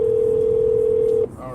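A telephone dial tone as a call is placed: a steady, unbroken hum held for over a second that then cuts off abruptly, leaving faint room noise.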